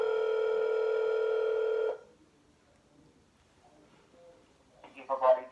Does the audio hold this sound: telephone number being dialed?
yes